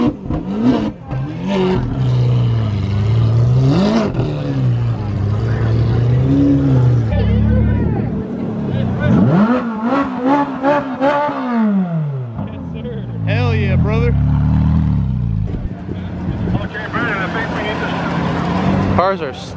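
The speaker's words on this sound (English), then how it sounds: "Cars are still rolling in." Cars roll into a crowded car meet with exotic supercars, engines revving and rising in pitch as they pass close by, layered with continuous crowd chatter and talk.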